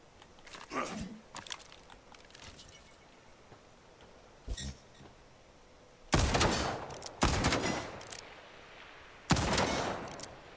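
Gunfire during shooting-range training in the game Highguard: a few scattered lighter shots early, then three loud, dense bursts of rapid fire, each lasting about a second, close and sharp.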